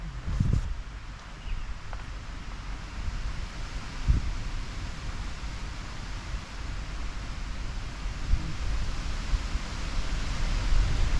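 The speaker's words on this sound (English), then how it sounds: "It is also windy as a motherfucker outside" Steady strong outdoor wind rushes and buffets the microphone, a constant broadband roar with a few low thumps, no voices.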